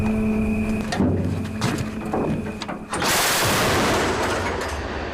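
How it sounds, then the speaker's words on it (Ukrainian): Gunfire from a Ukrainian anti-aircraft gun at night firing tracers at drones: a few heavy bangs, then a sustained loud roar of rapid firing that fills the rest of the clip. "Хлопці викочують зенітну установку, націлюються, і нічна тиша вибухає трасерами."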